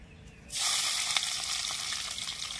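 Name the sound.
chopped onion sizzling in hot oil tempering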